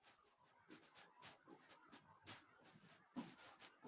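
A pen or chalk scratches out a handwritten statement for a class 10 geometry proof, a quiet run of short rhythmic strokes with small gaps between them, close to the microphone.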